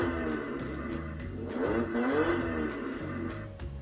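A police SUV ride-on toy car is switched on and plays a loud, steady electronic engine-revving effect, with rising and falling engine tones running continuously for a few seconds; no one speaks.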